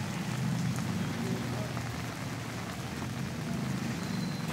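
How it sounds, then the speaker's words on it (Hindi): Heavy rain falls at night in Nazimabad, a steady dense hiss of drops on surfaces that fills the whole stretch without a break. "तेज़ बारिश हो रही है"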